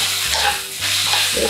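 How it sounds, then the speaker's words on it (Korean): Egg mixture with sesame oil and pepper being stirred in a bowl, brisk repeated wet whisking strokes close by, with no talk. "이렇게 하시고 골고루 섞어주시면"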